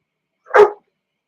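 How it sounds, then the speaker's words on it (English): A single short dog bark, clear and fairly close, set against otherwise silent surroundings. "I can hear my dog."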